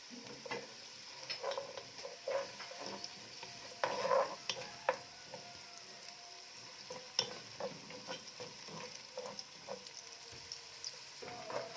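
Onions fry with salt in a pan for Libyan mbakbaka, a faint steady sizzle broken by soft scraping stirs and occasional light taps of a utensil against the pan.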